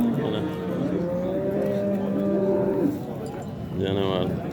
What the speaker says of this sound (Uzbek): Yirik sigirlar